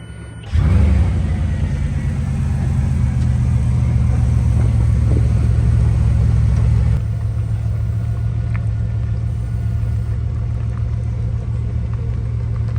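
A Bugatti Veyron fires up with a sudden loud rumble, then holds a heavy, steady idle-to-rev roar up close at a rainy track day, staying strong and unbroken throughout.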